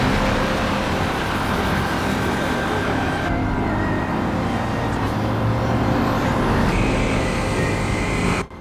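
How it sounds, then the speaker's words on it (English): A lowrider revs and rumbles loudly on a Tokyo street, its steady engine noise continuous amid surrounding traffic for the whole stretch before cutting off abruptly at the end. "The lowrider's going crazy there."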